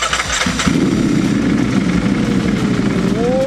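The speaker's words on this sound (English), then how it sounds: "We will turn it on and listen to the Akrapovic exhaust." A Ducati Superleggera V4 motorcycle engine with Akrapovic exhaust starts with a burst and settles into a loud, rumbling idle, throbbing steadily close by.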